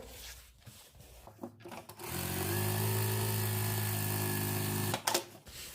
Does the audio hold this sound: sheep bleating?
no